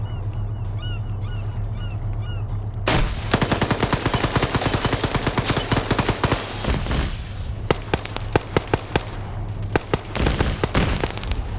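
Jets strafing with rapid cannon and machine-gun fire in a military video game set during a US versus Chinese air assault: long ripping bursts and dense cracks arrive suddenly after a quiet stretch and keep pounding, loud and close.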